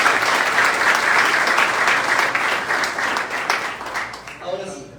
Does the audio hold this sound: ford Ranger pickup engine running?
no